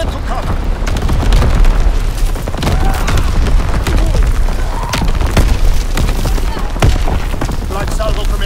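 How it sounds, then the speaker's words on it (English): Incoming enemy artillery in the World War II shooter Call of Duty: WWII, with loud continuous booms and explosions mixed with scattered gunfire, under steady battle shouting from several voices. "Incoming enemy artillery, get to cover!"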